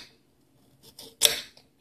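Food being chopped into tiny pieces for a dwarf hamster omelet, a few soft quiet cuts followed by one sharper, louder snip near the end, with no talking.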